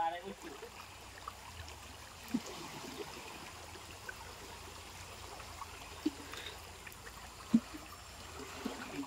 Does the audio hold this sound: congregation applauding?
no